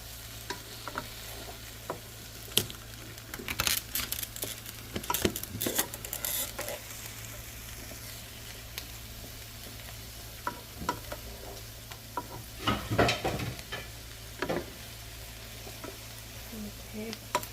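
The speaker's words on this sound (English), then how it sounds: "We'll just kind of like stir it around so it doesn't burn" Food sizzles quietly in a pan on a stovetop while a utensil stirs it around, giving sharp scrapes and clinks in scattered bursts over a low steady frying hiss.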